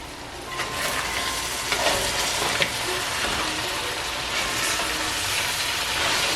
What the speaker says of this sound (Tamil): மூடிட்டு இந்த தண்ணி நல்லா வற்று வரையும் இதை வந்து அவிய விட போகிறேன்.